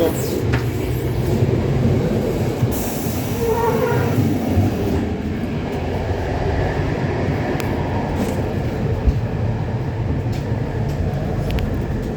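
Inside a moving IC 38100 Zamoyski passenger carriage on the Rzeszów/Lublin to Kołobrzeg route, a loud, steady rumble of wheels and rolling noise fills the whole stretch, with a door or fitting clattering briefly early on.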